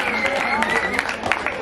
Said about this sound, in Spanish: Aplauso para la final